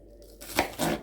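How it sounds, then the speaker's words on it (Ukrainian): Two quick knife chops strike a cutting board close up as an onion is cut, crisp and separate, with quiet room tone before them. "От таким чином я ріжу цибулинку."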